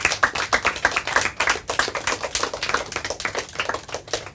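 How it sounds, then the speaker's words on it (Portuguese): An audience claps for a teacher, a fast, dense patter of many hands, loud and close, sustained evenly for a few seconds without speech. "Palmas para ela."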